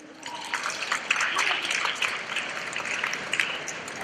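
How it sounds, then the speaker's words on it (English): A short burst of clapping from a group, uneven and moderately loud, swelling then thinning out over a few seconds. "clap for that, please"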